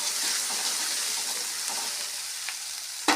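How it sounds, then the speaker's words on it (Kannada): Chili paste with turmeric fries in a pan for a North Karnataka style sprouted moth bean curry: a dense, even sizzle up close with light scrapes of stirring near the end. "ನಂತರ ಅಚ್ಚ ಖಾರದ ಪೇಸ್ಟನ್ನು ಹಾಕಿರಿ ಫ್ರೈ ಮಾಡಿರಿ"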